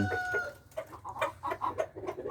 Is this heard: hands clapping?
no